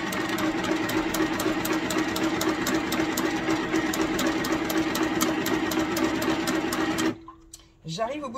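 A WE R Memory Stitch Happy sewing machine runs fast with a steady, dense mechanical whir for about seven seconds, then stops abruptly, leaving a short quiet tail with a brief click.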